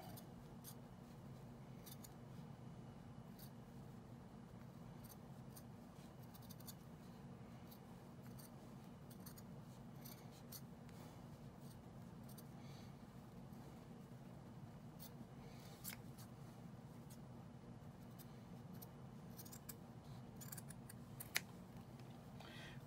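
Scissors snip steadily through a paper sewing pattern, a soft continuous run of small cuts over a low constant hum, with no talk.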